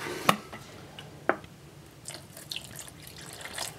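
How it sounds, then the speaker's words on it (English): Water splashes into a thick, pancake-like batter made from a sawdust mix, with two sharp drips near the start followed by soft, faint wet sloshing and stirring. "we want to take and add some more water to it to thin it back out"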